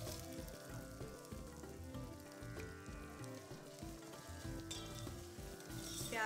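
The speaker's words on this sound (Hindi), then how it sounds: "प्याज को हम थोड़ी देर तक भून लेंगे।" Finely chopped onion frying in oil alongside whole garam masala, bay leaf, cloves, black cardamom, cinnamon, dried red chillies and ginger-garlic paste, giving a steady, soft sizzle that runs unbroken throughout at low volume with faint tonal background sound.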